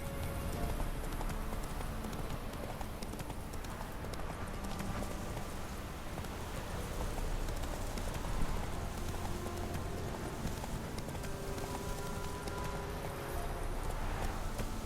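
A horse gallops in The Witcher 3 video game, steady rapid hoofbeats drumming continuously at moderate volume with faint ambient game noise behind.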